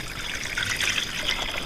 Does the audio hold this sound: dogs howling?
no